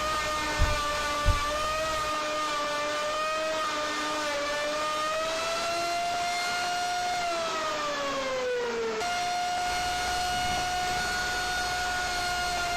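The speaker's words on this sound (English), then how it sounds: "The faster I turn the log, the faster I'm going to put a tenon on it." A log tenon maker cutting a tenon on the end of a bent log, giving a loud, steady, high-pitched whining drone whose pitch sags and then jumps back up, with a couple of brief knocks near the start.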